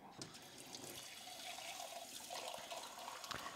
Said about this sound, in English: Drain and rinse them beans